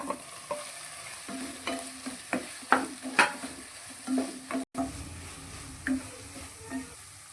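A spatula stirs and scrapes repeatedly through sizzling masala as egg is added for Mangalorean egg sukka, with irregular clacks against the pan over a continuous frying hiss.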